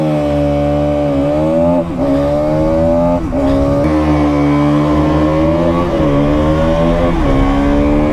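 A KTM Duke motorcycle engine revs hard and loud at a drag race launch, a buzzing high-pitched roar that climbs and dips repeatedly as the throttle is worked near the limiter, with no voices over it.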